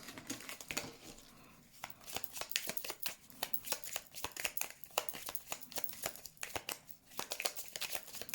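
Tarot cards being shuffled for a reading, a quiet run of quick papery riffles and flicks in irregular bursts, close and alone with no talking.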